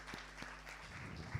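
Faint, scattered clapping from a small business event audience honoring a panel, quiet and thin over a low hum, with a few distinct claps early on.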